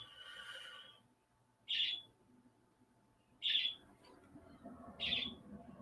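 A pet bird chirps indoors in three short, bright bursts spaced about every second and a half, fairly close and moderately loud, with a steady low room hum beneath and no talking.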